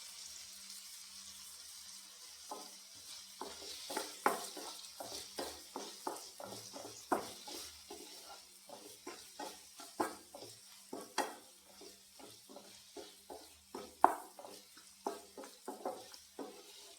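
Ingredients for a chutney are sautéed in a pan, with a spatula tapping and scraping in quick, irregular strokes over a faint, low sizzle.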